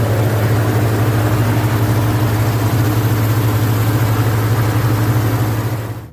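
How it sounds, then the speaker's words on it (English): A 340 cubic inch V8 engine in a 1970s Australian Charger runs steadily with a deep, throbbing low rumble, loud and close, fading out at the very end. "a 340 cubic inch V8 engine"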